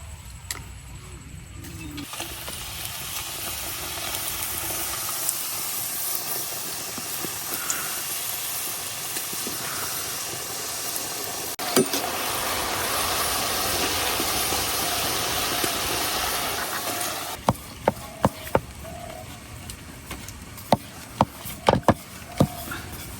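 Bengali nimki fry in hot oil with a loud, steady hiss that runs unbroken for most of the stretch, then gives way to a few sharp metallic clinks as the last batch is lifted out.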